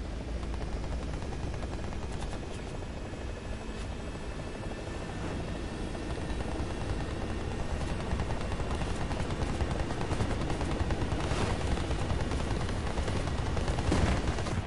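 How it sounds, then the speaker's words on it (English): A steady helicopter rotor drone in the game War Thunder, custom battle, runs throughout, with scattered gunfire bursts and distant blasts cutting through the dense game noise. "Oh, we hear and see a helicopter."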